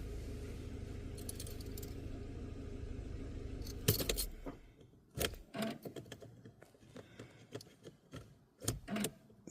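A car ignition key turned to the second position: keys jangle softly under a low hum, then a sharp metallic click, followed by scattered light ticks and taps close by.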